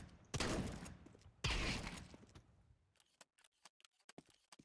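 Nova shotgun reload in Counter-Strike 2, opening with two heavy, loud blasts, then a rapid string of light mechanical clicks and clacks as shells are loaded.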